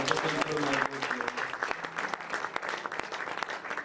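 A church congregation applauds at an evening worship service, a dense steady clatter of many hands over sustained voices and music, filling the whole moment at moderate loudness.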